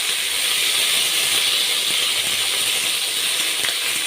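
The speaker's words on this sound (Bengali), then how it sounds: "প্রথমে আমি চিচিঙেগুলো হালকা করে ভেজে নেব" Snake gourd fries lightly in a pan on a medium gas flame, making a continuous even sizzling hiss at a constant level, with a faint clink near the end.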